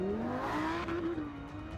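Lamborghini with a 5.2-liter naturally aspirated V10 engine, heard at a distance as a rising then steady engine note with a faint squeal, quiet and brief.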